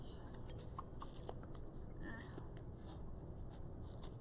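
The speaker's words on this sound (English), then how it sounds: "Feed your scissors through that. And cut." Faint, quiet snipping of scissors cutting craft loops, a few soft crisp cuts spaced irregularly over a low steady background hiss.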